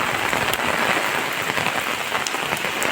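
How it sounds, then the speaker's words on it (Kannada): Heavy monsoon rain in the Malnad hills pours down on surfaces in a loud, dense, unbroken patter, with occasional sharper drips standing out and no voices. "ಎಷ್ಟು ಜೋರಾಗಿ ಬಂದಿದೆ ನೋಡಿ ಕರಾವಳಿಯಲ್ಲಿ ಈ ರೀತಿ ಇರುತ್ತೆ ಮಲೆನಾಡಿನ ಮಳೆ"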